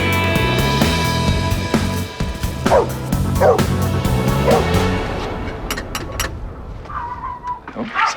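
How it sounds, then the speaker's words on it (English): A dog gives a few high yips and whimpering barks, partly masked by loud background music before the music cuts out and the dog sounds briefly continue alone. "Soppy dog."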